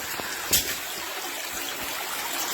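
Water trickles steadily inside a cave, a faint, continuous wash with one brief louder splash near the start and no voices over it.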